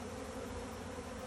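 Red wasps and honeybees swarming in a banana tree, a dense continuous buzzing hum at close range, steady and even throughout the brief moment.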